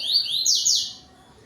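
A yellow-billed seedeater (coleiro) sings its high, clear tui-tui song, with bright sweeping whistled notes close by, then fading toward a quiet end.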